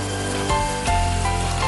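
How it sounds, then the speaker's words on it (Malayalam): Potatoes for chilli potato sizzle steadily in hot oil during a second frying, a continuous close crackling hiss with a brief surge partway through and no talk. "ഒന്നുകൂടി ഒന്ന് വറുത്തെടുക്കുന്നു"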